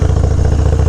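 A Harley-Davidson Dyna FXDX motorcycle engine rumbles loud and close while riding, a steady low-pitched throbbing pulse running through the whole brief moment with no talking.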